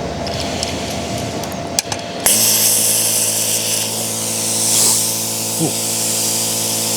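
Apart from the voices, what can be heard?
Parkside plasma cutter cutting metal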